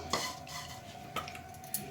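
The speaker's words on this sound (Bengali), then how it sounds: "লো ফ্লেমে ভাজছি আস্তে আস্তে" Semai vermicelli frying in ghee over a low flame while being stirred, with a soft steady sizzle under a few sharp scrapes and clinks of a spoon against the pan, close by.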